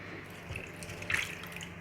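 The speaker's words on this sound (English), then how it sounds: "that's how I wash my vegetables" Vegetables, a head of lettuce, tomato and cucumber, are washed in salted water in a sink, with steady running and splashing water and a few brighter splashes, close and fairly quiet.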